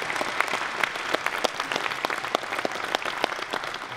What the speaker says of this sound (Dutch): Amani komt onder een luid applaus, hoor ik.